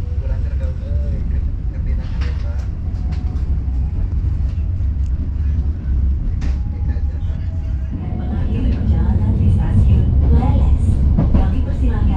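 A Serayu passenger train departs an Indonesian railway station at night, a low steady rumble of rolling cars that swells toward the end, with voices talking over it.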